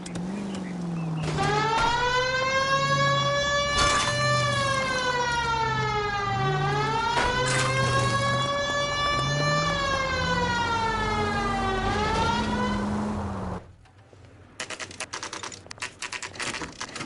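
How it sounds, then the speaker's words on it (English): A police car siren in the video game L.A. Noire wails, rising and falling in long sweeping cycles, loud and close, then cuts off abruptly, leaving quieter clattering sounds. "People might move out of the way quicker if you use the siren."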